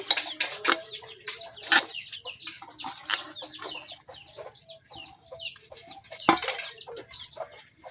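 Shrimp chop ingredients with chopped coriander, chilli, salt and dry rice flour are mixed in a bowl, making repeated sharp clinks and scrapes of a utensil against the bowl, with hens clucking close by throughout.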